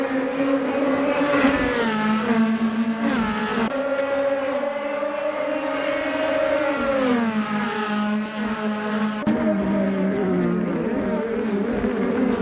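DTM race cars in Assetto Corsa at Misano, loud close engines revving and downshifting through corners, pitch sweeping up and dropping sharply under braking, several overlapping cars, no voices.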